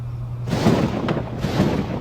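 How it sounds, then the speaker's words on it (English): Thunder used as a sound effect in a horror film review show, a deep rolling rumble that swells after a quiet start and sustains with a second roll, with no speech over it. "Well, Jonathan Doe, more thunder and lightning."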